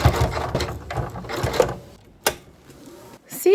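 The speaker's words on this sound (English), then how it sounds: "Sew down." A sewing machine stitching down a quilt-as-you-go connector strip on a stars and stripes quilt, a fast mechanical whirring run that stops, followed by sharp clicks and a brief restart, close and alone.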